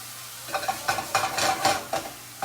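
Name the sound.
sautéing red ingredient for clams casino in pan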